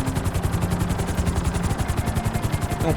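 A helicopter comes in to land in the video game GTA 5, its rotor beating in a fast, even thump over a loud, dense engine roar that stays close and constant throughout.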